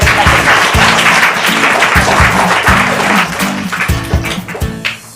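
Loud, dense applause from a studio audience on a quiz game show, with rhythmic thumping music beneath it, sustained and then tapering off near the end.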